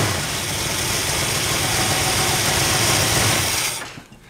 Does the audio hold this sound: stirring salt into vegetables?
no